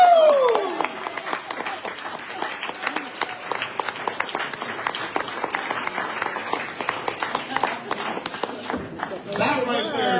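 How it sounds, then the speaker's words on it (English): Audience applause for a poet at a live poetry reading, a burst of dense clapping from a crowd that thins into scattered claps, with cheering and voices mixed in toward the end. "Give that guy another round of applause"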